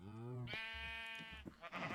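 A sheep in the Minecraft video game gives one drawn-out, wavering bleat, clear and close, followed by a few faint game noises.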